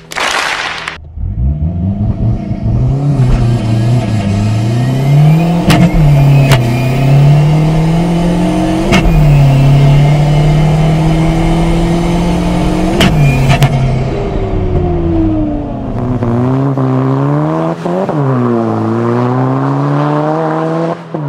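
A Peugeot 206 2.0 HDi diesel launches hard from close by, its engine revving up and down in repeated surges as the tyres spin and struggle for grip, with sharp gear-change breaks and no voices.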